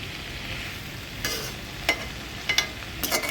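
Curry being mixed in a kadai, a low background sizzle broken by several short, sharp scraping strokes of a spoon against the pan near the end.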